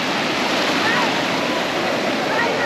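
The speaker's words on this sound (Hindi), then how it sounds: "ये देखो, ये आई लहर" Sea waves washing onto the beach at Gopalpur at sunset, a steady broadband rush of surf that stays loud and continuous for the whole stretch with no breaks.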